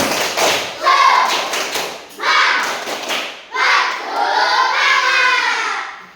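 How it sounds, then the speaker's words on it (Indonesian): Schoolchildren in a fourth-grade physical education class clap a rhythmic spirit cheer in bursts, a close, loud patter of many hands that sounds three times with short pauses between, with children's voices chanting along. "kita lakukan tepuk semangat dulu"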